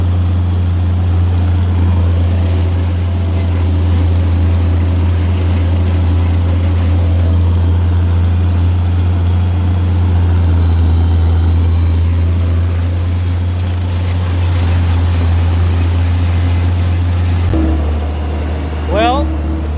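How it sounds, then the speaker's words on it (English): Open-station tractor engine mowing pasture on a hot day, a steady loud low drone running continuously and close up, with its tone shifting briefly near the end. "why wouldn't you be on an open station tractor mowing some pasture today?"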